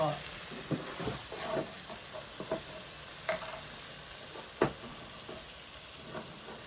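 Rice noodles with chili stir-fried in a pan, a soft continuous sizzle with occasional scraping clacks of the utensil, fairly close, with a voice speaking over it.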